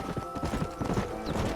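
Horse hooves clip-clop steadily at a brisk pace in the video game Red Dead Redemption, close and continuous over a low background rumble.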